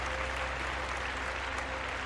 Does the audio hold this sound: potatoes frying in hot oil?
no